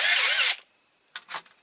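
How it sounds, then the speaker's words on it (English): A power drill bores out a rivet on a Corgi Toys Standard Vanguard die-cast model: one close, loud half-second burst of high whine, then silence broken by a few faint small clicks and scrapes. "So you can drill that out."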